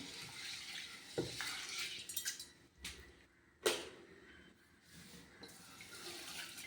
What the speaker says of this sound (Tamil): இதை நல்லா தண்ணி ஊற்றி கழுவிட்டு அப்புறம் வறுத்துக்கலாம்.